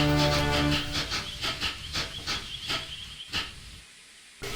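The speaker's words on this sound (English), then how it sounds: "His driver shut off steam and they coasted to a halt." A steam locomotive hisses in a series of rhythmic chuffing bursts that slow and fade as steam is shut off and it coasts to a halt, ending in near quiet.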